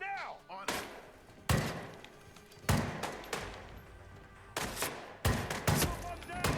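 Gunfire in the Hitman VR game: sharp, loud shots arriving in separate bursts, some single and some doubled, with a short thud between them and people shouting over the shooting.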